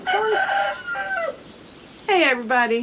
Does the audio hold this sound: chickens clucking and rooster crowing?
yes